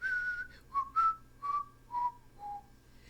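A man whistles a bar of Lohengrin's wedding march, a clear solo melody of about six short phrases stepping downward, close and unaccompanied.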